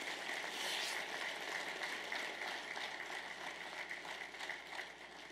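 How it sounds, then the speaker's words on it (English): A crowd at an award ceremony claps in a steady, fairly quiet patter of applause heard from some distance, continuous and slowly easing off. "So let's give a big round of applause to all of our amazing sponsors and volunteers."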